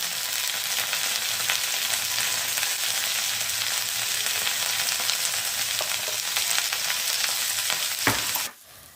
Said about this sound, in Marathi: आता ही भेंडी वर खाली करून घेते छानपैकी